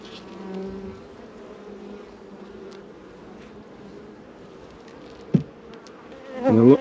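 Dense, steady buzzing of honeybees in an open beehive during a frame inspection with brood and larvae, a continuous nearby drone with a brief sharp knock midway and a louder swell of close buzzing at the end.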